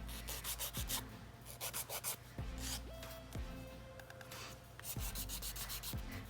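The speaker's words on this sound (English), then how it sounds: "I am just going to reshape all of that, and then I use the fine side to give it a good little buffing." Nail file buffing and reshaping dip powder nails, quick repeated close scratchy strokes in short rhythmic bursts, faint and intimate.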